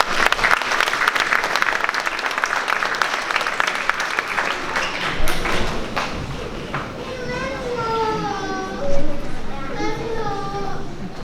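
Applause at a school spring concert for 4th grade pupils: dense clapping for about five seconds that fades, followed by children's voices speaking and reciting.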